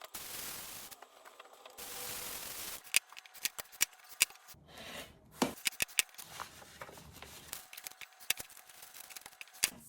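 Scissors cut quilt fabric close up, with crisp snipping and crunching strokes in an irregular rhythm, broken by rustling and handling of the cloth.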